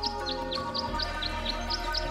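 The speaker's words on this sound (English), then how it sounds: "The birds seem to like it. They're even singing a little tune." Birds sing at a birdbath in the Tangle Tower video game, a regular series of bright chirps repeating about every quarter second over a soft, steady musical backing.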